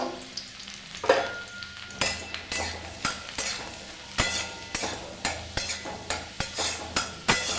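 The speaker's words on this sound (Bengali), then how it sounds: "দেখুন ভালো করে ভেজে নেব" Chopped garlic is frying in a pan for an egg chilli dish. A steady sizzle runs under repeated rhythmic scrapes and taps of a spatula stirring against the pan, close and fairly loud, with no talking.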